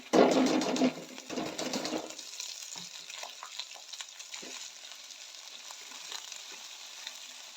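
Onion frying with raw potato pieces in a pan starts with a loud burst of sizzling and stirring, then settles into a quieter crackle with occasional light scrapes.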